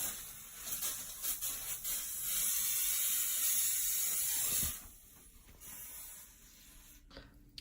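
A LaCroix can spraying as it drops, a faint hiss of escaping fizz lasting several seconds, ending with a sharp thud and then quieter, softer sputtering.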